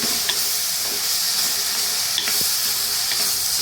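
Ingredients for mango pachadi sautéing in a pan give a continuous bright sizzle, with faint occasional clicks from stirring.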